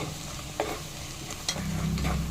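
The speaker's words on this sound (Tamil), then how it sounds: "பூண்டு வந்து அந்த எண்ணெயில் நல்லா வதங்கணும்" Garlic sizzles briskly in hot sesame oil in a pan, a dense steady crackle heard close up, with a couple of soft knocks from stirring and no talk.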